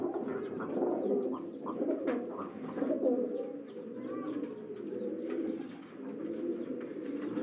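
Red chini pigeons coo close by in a soft, continuous chorus of low rolling calls, overlapping for several seconds without a break.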